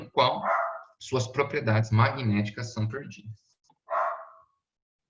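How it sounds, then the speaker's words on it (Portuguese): Dogs barking in the background of a Portuguese electromagnetism lecture, a couple of sharp barks partly masked by the lecturer's voice, with one clearer bark standing alone near the end. "Perdão pelos cachorros."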